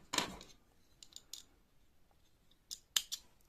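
Scissors snip through yarn while joining crocheted puff flowers: one crisp cut near the start, a few lighter snips in the middle, then two sharp cuts near the end, close and clear with no talking.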